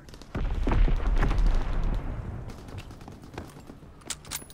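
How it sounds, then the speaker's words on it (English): Mortar strikes called in during a Call of Duty WW2 team deathmatch: a heavy rumbling blast rolls for about two seconds, then fades into scattered distant crackles and a few sharp pops of gunfire near the end. "now I call in these mortars"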